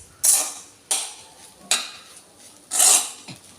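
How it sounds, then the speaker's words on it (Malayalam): A spatula scrapes scrambled egg bhurji around a pan in four distinct, close strokes, each a bright scraping rasp separated by short quiet gaps. "ഒരു 3-4 മിനിറ്റോളം ഇളക്കി കൊടുക്കുക."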